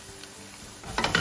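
Curry in a pan sizzles softly while salt and chili powder get stirred in. A couple of louder scraping stir strokes come near the end.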